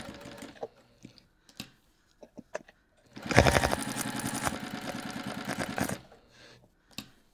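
A sewing machine stitches around the corners of an I Spy bag, running in one loud, steady burst of about three seconds, with brief clicks and handling noises before and after.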